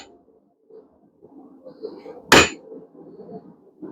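A single sharp metallic hammer blow strikes a blacksmith's chisel cutting slant notches into square bar stock, ringing out once amid quiet background murmur.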